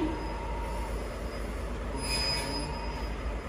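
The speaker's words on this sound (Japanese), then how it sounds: "4番線に列車が到着いたします。" Train headed by a DE10 diesel locomotive pulling into a Japanese station platform, a steady rumble of rolling wagons with a high wheel squeal rising midway, heard from the platform.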